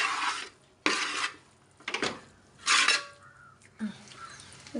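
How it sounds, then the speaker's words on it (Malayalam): Washed chicken is stirred in a pan: a few sharp scraping clatters of a utensil against metal come in separate bursts, with a faint sizzle and quiet gaps between. "നേരത്തെ കഴുകി ഊറ്റി വെച്ച ചിക്കൻ നല്ലതുപോലെ ഇളക്കി കൊടുക്കണം."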